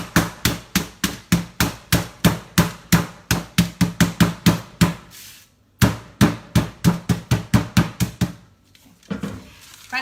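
Loud, rapid thuds pound in a steady rhythm as butter is bashed flat between paper, a burst of blows, a short pause, then another run of heavy whacks.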